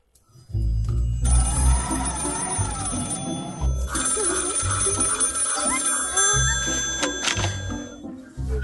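A telephone rings while a call is placed to an airport control tower, its repeated bell tones sounding over steady background music throughout.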